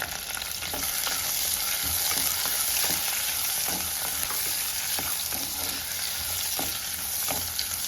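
Chopped green chillies and shallots sauté in hot oil in a pan for a Kerala-style snake gourd curry, with a steady, loud, close sizzle and occasional stirring scrapes, no voices.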